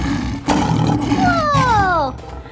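A lion's roar in a children's zoo animal learning piece, a loud drawn-out bellow with rising and falling tones over background music, ending abruptly.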